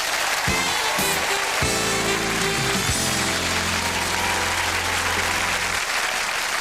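A television studio audience at a singing show applauds a guest singer with dense, loud, continuous clapping for the whole stretch, a low musical chord sounding underneath.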